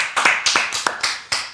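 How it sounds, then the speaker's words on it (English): A string of separate hand claps, about six across a second and a half, sharp and fairly loud, with irregular gaps and no talking over them. "Clap it up for that queen"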